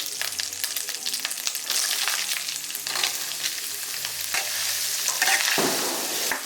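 Ash gourd pieces hit oil tempered with ginger paste and fry with a lively, close sizzle, broken by stirring scrapes and crackles that rise and fall across the few seconds.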